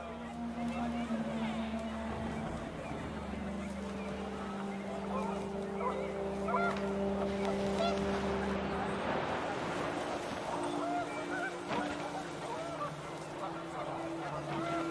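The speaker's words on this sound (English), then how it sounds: "The wind picked up and panicked geese appeared and quickly went." Panicked geese honking in the video game What Remains of Edith Finch, several repeated calls over a steady windy wash, moderately loud, with a voice talking throughout.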